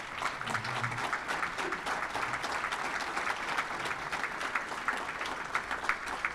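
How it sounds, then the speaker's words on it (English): A crowd applauds loudly and continuously, dense clapping from many hands sustained throughout with a few faint voices underneath. "give you a round of applause"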